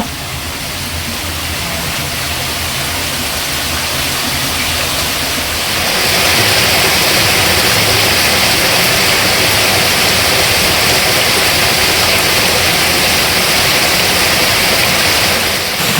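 A mountain waterfall roars as a loud, dense, continuous rush of falling water, close by and steady, swelling slightly brighter partway through, with no speech.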